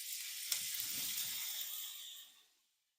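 A salted steak hits a hot pan and sizzles loudly in a sustained hiss that fades away over a few seconds, close up and alone.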